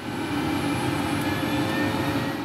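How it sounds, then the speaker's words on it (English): A helicopter flies over remote Canadian wilderness of forests, mountains and rivers, a steady loud engine and rotor roar that holds constant throughout, close and without talk. "or by a not-so-eco-friendly route, a chopper."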